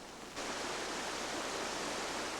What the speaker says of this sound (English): The raging river along the Preston Falls City Road in an outrage today.